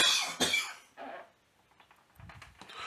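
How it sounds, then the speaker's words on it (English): A person coughs nearby in a few sharp, harsh bursts, followed by quieter throat sounds and rustling; no speech is heard. "So bear with the coughing in the background."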